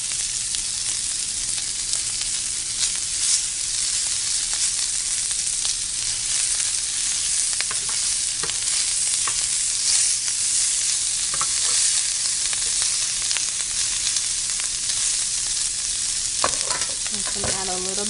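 Onions and leeks fry in melted butter, giving a steady, close sizzle throughout with scattered stirring scrapes and a few sharper pops and clatters near the end; no one speaks.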